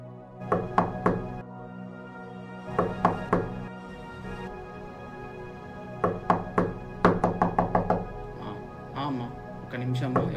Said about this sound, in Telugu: ఎవరో డోర్ నాక్ చేస్తున్నారు.